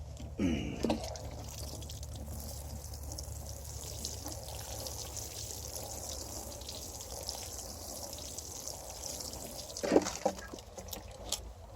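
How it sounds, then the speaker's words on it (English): Water is poured from a container onto a newly planted onion in a small garden bed, giving a soft, steady trickle and splash with a few louder drips and handling knocks. "Okay, a little bit more water."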